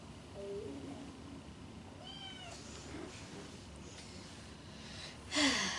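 A small kitten meows several times indoors, thin high cries scattered across a few seconds with quiet room noise between them, followed by a louder, sharper cry near the end.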